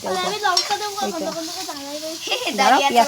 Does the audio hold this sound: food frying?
yes